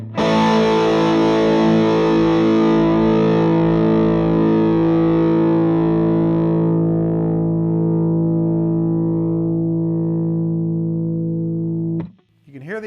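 A PRS electric guitar through a Bad Cat Cub IV 30R amp with the gain cranked, one loud distorted chord ringing out with long sustain and slowly fading, then a short burst of scraping noise at the very end.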